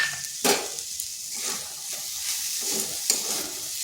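Ginger, green chilli and peanuts fry in a pan with a bright steady sizzle, broken by a couple of sharp scraping stir strokes.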